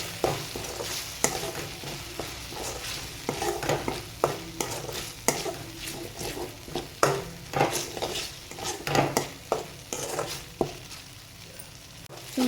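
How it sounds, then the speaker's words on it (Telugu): Ginger garlic paste stirred with tomatoes in a frying pan for a paneer curry, a steady scraping of the spoon over a soft sizzle of frying, repeated strokes close by with no talking. "ఇప్పుడు పచ్చివాసన పోయే వరకు అల్లం వెల్లుల్లి పేస్ట్ని"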